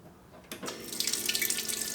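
A Honda CB400SF motorcycle fuel pump wired to a small battery starts up and flushes fuel, a sudden hissing rush of liquid that stays strong and steady, close to the listener.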